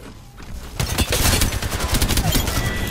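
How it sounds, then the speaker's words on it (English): Point-blank R99 submachine gun unloading a full magazine in a video game, a loud, rapid continuous burst of gunfire that starts near the one-second mark and rattles on steadily to the end, with faint voices in the background. "I did a full fucking round of R99 point blank"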